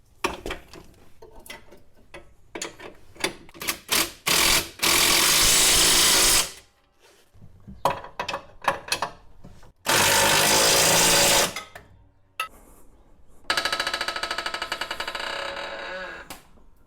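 Bursts of ratcheting and power-tool whirring tighten the control arm bolts on a 2006-10 Dodge Charger R/T. Three long, loud runs alternate with quick clicks and short pulls, near and with no voices.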